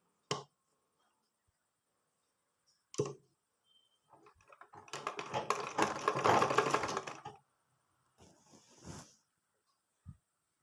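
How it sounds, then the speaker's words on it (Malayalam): A sewing machine stitches along a folded fabric edge, a close, dense mechanical whirring run of about three seconds, framed by a few isolated clicks and knocks before and after. "നമ്മളിതിൻ്റെ വക്ക് ഇങ്ങനെ അടിച്ചു കൊടുത്തു"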